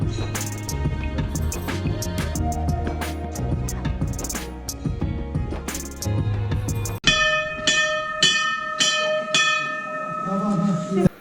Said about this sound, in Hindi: घंटियाँ बज रही हैं।